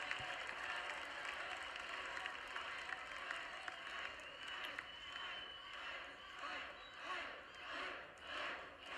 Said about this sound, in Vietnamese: Đám đông lên tiếng chiến đấu.